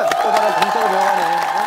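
Studio audience at a Korean TV variety show applauding and cheering loudly, with a presenter's voice running over the clapping and whoops.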